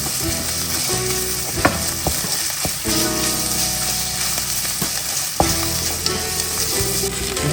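Tomato paste frying in a pot while being stirred, a steady close sizzle broken by the scrape and knock of a utensil against the pot.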